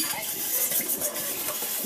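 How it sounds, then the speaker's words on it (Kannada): Dishes, pots and utensils are washed by hand in a home kitchen, with soft scraping, stirring water and occasional light clinks of cutlery, faint and steady. "ಇದು ಸ್ವಲ್ಪ ಪಾತ್ರೆ ಇತ್ತು, ಅದನ್ನು ಕೂಡ ಸ್ವಲ್ಪ ವಾಶ್ ಮಾಡ್ಕೊತಾ ಇದ್ದೀನಿ"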